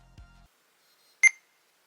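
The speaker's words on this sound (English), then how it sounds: "Yes, that is the beeping noise you hear when you turn the device on." Startup beep of an Ayn Loki 6600U handheld gaming device, a single short, clear electronic tone that follows a soft click and stands alone in near silence.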